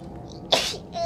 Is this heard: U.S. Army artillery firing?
no